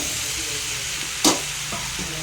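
Tomatoes frying in oil give a steady close sizzle throughout, with one brief louder burst of hiss near the middle as the pan is disturbed, then a couple of soft utensil clicks.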